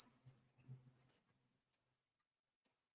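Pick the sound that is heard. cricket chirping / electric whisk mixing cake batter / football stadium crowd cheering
cricket chirping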